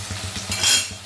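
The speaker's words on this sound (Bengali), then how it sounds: "এটা একদিকে ভাজা হচ্ছে" Paneer frying in a pan gives a steady soft sizzle with faint scraping and light clinks of a utensil stirring, close by and without speech.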